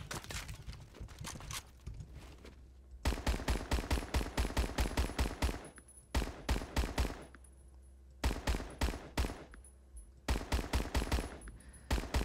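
A PPSh-41 submachine gun in Roblox Phantom Forces rips off rapid full-auto bursts, several long strings of tightly spaced shots separated by short pauses, loud and close over faint background game noise.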